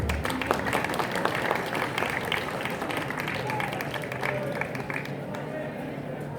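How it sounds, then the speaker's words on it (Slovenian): Applause from an audience at an outdoor wine festival at a castle, following a musical duo's performance; steady clapping mixed with crowd chatter and voices throughout, fairly loud and continuous. "Še en aplavz, prosim."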